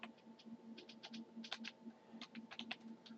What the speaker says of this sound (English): I type in the word preference